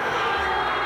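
A group of schoolchildren in a classroom roar together, imitating a lion, a loud, sustained crowd of young voices under a single brief burst.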